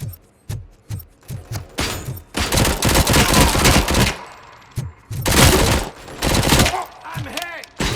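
Gunfire in RoboCop: Rogue City: a few sharp single shots at the start, then loud sustained bursts of automatic fire with thuds and short pauses, close and dense.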